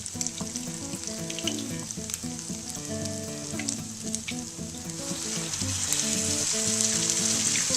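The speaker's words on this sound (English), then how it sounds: "so I'm putting the potatoes into the oil and then using the back of the spoon to kind of push them down too" Grated potato latkes pressed down in hot frying oil give a loud, steady crackling sizzle that grows slightly fuller toward the end, with a tonal background beneath.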